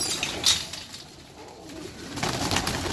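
Jeth pigeons coo softly in a low, rolling rhythm, a few calls at close range over faint background hiss with no talking.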